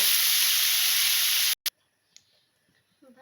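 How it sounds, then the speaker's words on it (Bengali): Mushroom and potato chunks fry with turmeric, a loud steady sizzle for about a second and a half, then it cuts off abruptly, leaving faint clinks and near silence. "একটু হলুদ দিয়ে দিয়েছি, একটু সময় ভেজে নামিয়ে নেব।"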